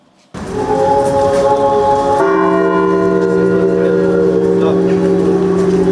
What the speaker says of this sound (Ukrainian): Церковний дзвін сповіщає про ще одну втрату захисника України.